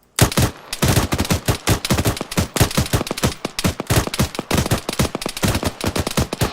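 Rapid rifle fire from a section of soldiers in the military game ArmA 3, a dense run of sharp, loud shots cracking in quick irregular succession for several seconds, close and overlapping.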